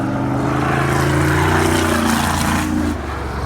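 A rented race car engine on throttle holds a loud, steady, buzzing drone close by, easing off slightly near the end.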